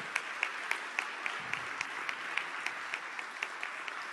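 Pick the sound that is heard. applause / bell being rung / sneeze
applause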